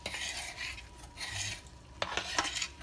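Flour being stirred into cooked, translucent onions in a pan for a roux, a soft scraping and rasping of the utensil in repeated strokes over a faint sizzle, with a few sharper scrapes near the end.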